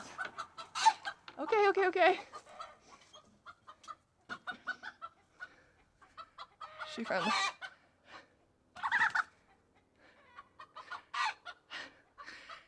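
Backyard chickens in a run behind a flimsy fence that separates them from rabbits, clucking in several short bursts with one longer squawk, close by, while a person speaks briefly between the calls.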